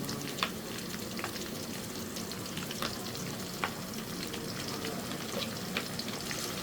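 Garam masala, cumin paste and ginger-garlic paste frying in oil, a close, steady sizzle with scattered crisp pops and spatula scrapes throughout, no voices.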